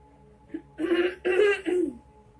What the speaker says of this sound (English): me needing to clear my throat